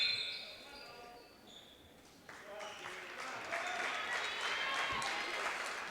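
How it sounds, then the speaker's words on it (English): A gym crowd at a high school girls' basketball holiday tournament breaks into applause as a player leaves the court, the clapping swelling partway through and continuing steadily at moderate distance. "Jaden Barth comes off to a round of applause."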